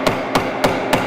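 Hammer driving nails into wood, four sharp, evenly spaced knocks in quick succession, loud and close, with no voices.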